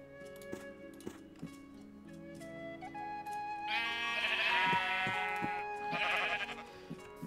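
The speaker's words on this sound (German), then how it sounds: "wenn das rote Schaf und das schwarze Schaf sich nochmal dazu bereit erklären würden, dass wir noch ein bisschen mehr Wolle kriegen" Sheep bleat in the Minecraft video game, with quiet soft taps and game sounds at first, then two loud, drawn-out wavering bleats close up, the second shorter, with no talk.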